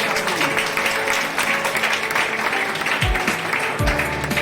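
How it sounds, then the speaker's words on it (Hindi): Loud applause from a hall audience at a Goa gathering, a dense continuous patter of many hands with some low voices and music underneath throughout. "एक बार अपने अपने माता पिता के लिए जोरदार तालियां"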